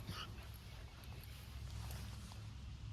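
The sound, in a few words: dog whimpering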